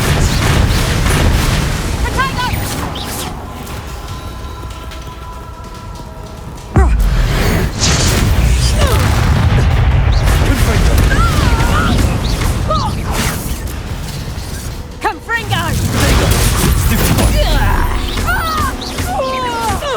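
Confringo fire-blast spells exploding during a wizard duel in Hogwarts Legacy, loud booming bursts with crackling debris over a busy combat soundscape, the sharpest hits landing around a third and three quarters of the way through.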